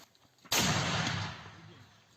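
A single loud, booming mortar shot erupts suddenly in a war zone, its blast rolling and fading over about a second and a half.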